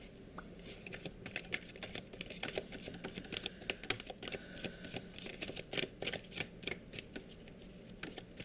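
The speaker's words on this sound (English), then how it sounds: "shuffle cards like that" Tarot cards are shuffled close by in a long run of quick, crisp riffling clicks and flutters with uneven bursts, alone without talk.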